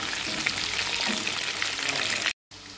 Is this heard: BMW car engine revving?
no